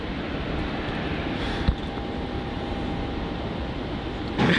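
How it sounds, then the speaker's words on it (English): A Saab 340 turboprop at Melbourne Airport in heavy wet weather gives off a steady, broad engine roar, with a faint droning tone and a brief knock partway through. "we're going to have another Saab 340 flight"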